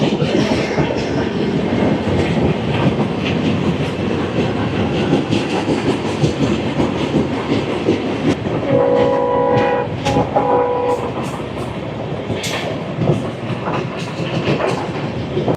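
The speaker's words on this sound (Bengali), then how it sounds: "আমাদের ট্রেন পার করলো কলকলি ঘাট" A Garib Rath Express train running on rails past Kolkoli Ghat in Assam, loud continuous rumble and rattling wheel clatter from inside the carriage, with a horn sounding midway.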